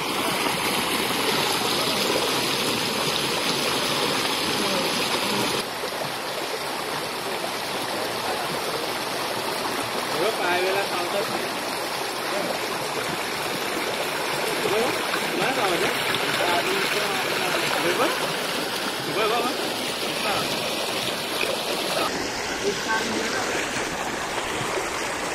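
Khandi Waterfalls near Pune rushes steadily throughout, a dense, loud broadband roar of falling and flowing water with a small shift partway through and faint voices mixed underneath.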